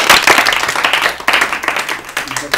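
Studio audience at an Urdu-language quiz show claps for a correct answer, a burst of dense applause that swells and dips briefly, fairly loud and close, with voices mixed in.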